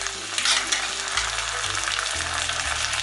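Dry chilli chicken sizzles loudly in a pan as soy sauce goes in, a bright, continuous frying hiss over a low steady hum, with no voices.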